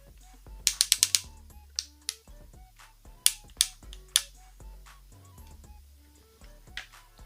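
Ratchet joints on a building-brick Voltron Ares armor figure clicking as the limbs are posed: close, sharp plastic clicks in quick bursts of four or five, then scattered single clicks with quiet gaps between.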